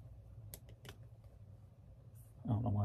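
A handful of quiet, close keystrokes on a computer keyboard over a low hum, followed by a voice speaking.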